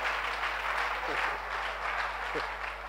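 Church congregation applauding during a worship service, a sustained bed of clapping over a steady low hum with a few brief vocal exclamations.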